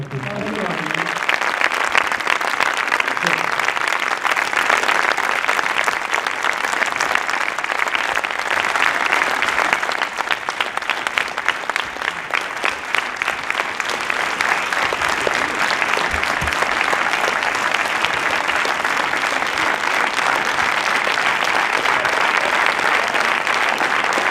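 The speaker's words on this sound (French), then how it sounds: "Donc je vais vous demander de faire un tonnerre d'applaudissements." An audience at a talk with director Fred Cavayé and actor Vincent Elbaz gives a long, loud ovation. The thick, even applause holds for over twenty seconds without a break.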